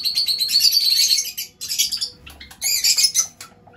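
Pet lovebirds kept at home chirp in loud, shrill, rapid bursts close by, with short pauses between flurries and a few squawky calls.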